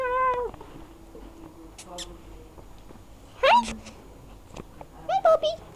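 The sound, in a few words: cat meowing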